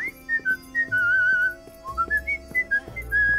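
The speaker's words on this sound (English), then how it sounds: "I'm just whistling away non-suspiciously" A person whistles a wandering melody while playing Prison Boss VR, clear close whistled notes rising and falling in short phrases, with light game clicks and thuds underneath.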